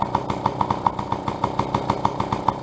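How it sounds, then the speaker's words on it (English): Honda NC50 scooter with an SHA carburetor on a cold start, running without choke, a small engine putting along near and loud with an even, slightly uneven pulsing beat throughout. "Now, this thing should fire right up. No choke, no nothing."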